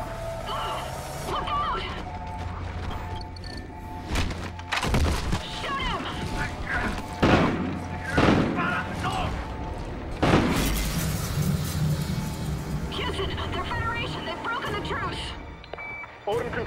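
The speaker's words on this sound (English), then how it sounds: "We are taking fire!" Continuous gunfire and explosions in the video game Call of Duty Ghosts, a dense loud battle mix with shattering crashes and booms under shouted voices.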